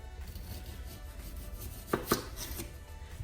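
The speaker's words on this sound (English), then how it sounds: "So I'm going to just finely slice a few little pieces to put in there" A knife finely slicing red onion for a lettuce salad: soft, quiet cutting under room noise, then two distinct, sharper chops close together near the end.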